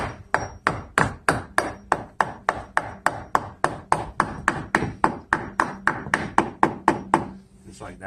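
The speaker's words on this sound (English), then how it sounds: "With a hammer and drive it in." A hammer drives a repair piece into a rotted door frame with about two dozen sharp, evenly spaced blows in a steady rhythm, close and loud, with a short pause near the end.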